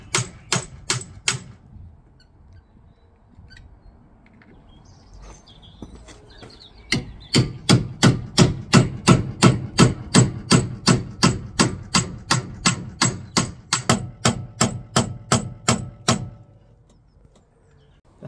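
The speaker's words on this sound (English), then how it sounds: "You can see where I'm mashing it, chiseling away." Hard metallic strikes of a hammer and chisel on a rust-seized wheel bearing of an Audi A4, a few quick blows, a pause, then a long steady run of loud evenly spaced hits.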